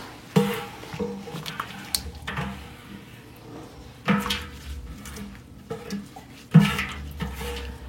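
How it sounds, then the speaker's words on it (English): Scraping of a spoon or paddle around the inside of a pot, a series of short scraping and knocking strokes with a few sharper clanks, fairly close, with no talking. "Now that our pot is all scraped out"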